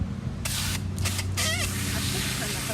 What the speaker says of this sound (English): I should turn the hose on.